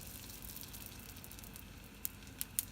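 A buttered corn tortilla sizzles softly in a hot pan, a steady low crackle with a few sharp pops near the end and no voices.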